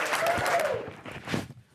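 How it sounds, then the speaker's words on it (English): A small sales team claps briefly for a colleague's week of set door-to-door appointments, a short burst of close group clapping that fades out within two seconds, with a faint voice over it. "Can I get another 2 clap?"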